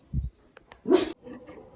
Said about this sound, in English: And now they're off to bark at the neighbor's dogs.